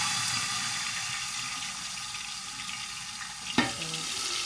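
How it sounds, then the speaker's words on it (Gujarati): Tomatoes dropped into a hot frying pan for mushroom paneer with asafoetida, a steady hissing sizzle throughout, followed near the end by a single sharp clank of a utensil against the pan. "અને હવે આપણે નાખવાનું છે ટમાટર"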